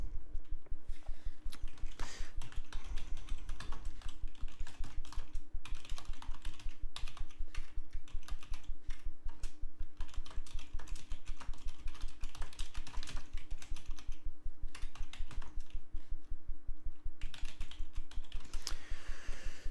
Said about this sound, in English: So I'm going to type this out for you.